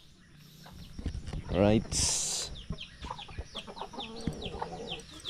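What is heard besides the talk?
native chickens clucking on a farm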